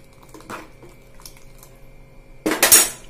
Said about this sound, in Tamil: இதில் கொட்டி கலக்கி விட்டுடுங்க.